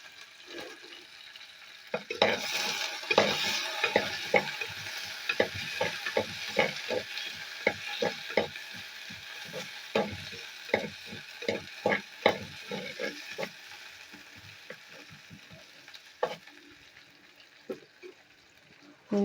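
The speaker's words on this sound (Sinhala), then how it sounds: "සුදු ලුණු මේ ටික දැන් අපි හොඳට හැදිගමු." Garlic sizzles and fries in a pan for dal curry while a spoon stirs it, scraping and clattering in rapid, irregular strokes over a steady hiss, close and fairly loud, with occasional voices in the background.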